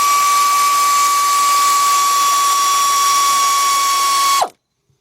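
A ratchet driving a 12 mm bolt on the engine of a Kia or Hyundai during a timing belt and water pump job, a sustained high mechanical whine, loud and close, that cuts off abruptly near the end.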